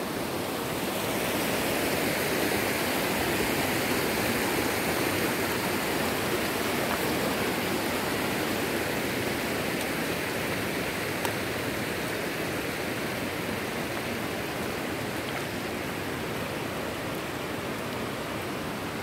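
Pinsan Falls pours in a broad, steady roar of rushing water heard from the top of the falls, a continuous wash of noise that stays even and unbroken with no voices.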